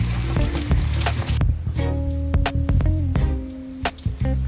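Water splashes and pours over a houseplant's leaves as it is rinsed clean of a homemade treatment, with bursts of running water, brief gaps and occasional drips and clatters close by.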